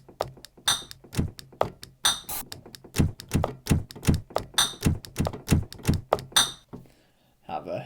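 Sampled drum kit played back in a rough pattern: thudding kicks and snare-like hits with bright metallic ticks, steady mid-tempo beats that stop abruptly before one last hit.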